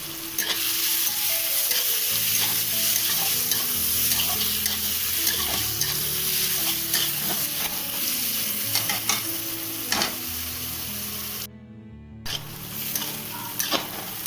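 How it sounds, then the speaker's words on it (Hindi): Chopped onions fry in a pan toward golden brown with a constant close, bright sizzle, while a spoon stirs and scrapes in repeated clattering strokes over the hiss, with a brief drop-out near the end. "तो चलिए प्याज को गोल्डन ब्राउन होने तक भून लेते हैं।"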